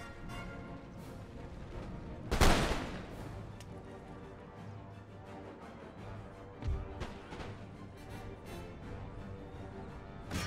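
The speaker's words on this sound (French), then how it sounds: "L'infanterie de ligne, on tire." Line infantry musket volley in Empire Total War, heard as one loud crackling burst followed by a smaller later report over a steady battlefield rumble.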